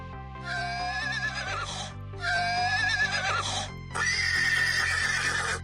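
A horse neighs and whinnies in three long, loud calls, each a shaky, descending cry with short pauses between them, alone with no talking.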